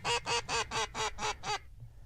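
A close mallard duck gives a rapid run of seven loud, raspy quacks, evenly spaced, then falls silent, in an outdoor duck-hunting marsh setting.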